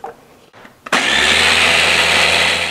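A blender whirs loudly and steadily, blending spinach pesto, starting abruptly after a brief quiet moment and running without pause to the end.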